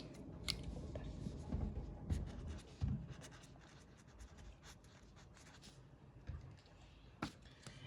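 Pen writing an example expression on a board or notebook during a computer lesson: continuous close scratching and scribbling strokes, irregular and moderately faint, with a few sharper ticks and no talk over it.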